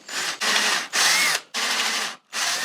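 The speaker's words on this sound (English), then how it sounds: "With a twist drill." A twist drill whirs in four bursts during a guitar setup, each running about half a second with brief silences between, loud and close with no talk.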